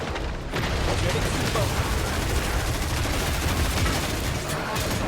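Dense gunfire and explosions in the wave-based shooter video game Killing Floor 3, a continuous loud barrage of shots and booms with no pause for five seconds.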